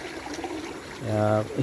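River water flows steadily at a gold panning spot with a soft, continuous rushing hiss, and a voice briefly speaks over it near the end.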